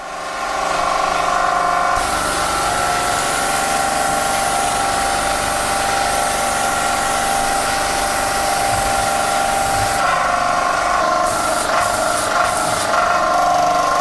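A Mollar T800 airless paint sprayer running and spraying water, its motor and pump giving a steady loud buzzing drone with a hissing spray, continuous for the whole stretch and brief clicks near the end, no voices.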